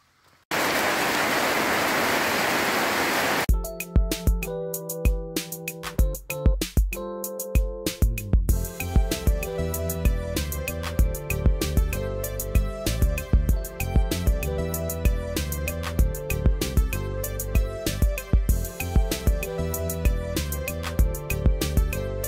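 Steady rain hisses for a few seconds on a walk in the Dominican Republic, then music with sharp percussive hits abruptly takes over and runs to the end.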